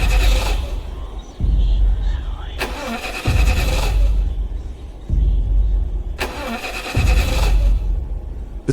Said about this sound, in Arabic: حاول يدورها علشان يمشي من القرية دي، ولكن موتور العربية كان متعطل ومرضيش يدور خالص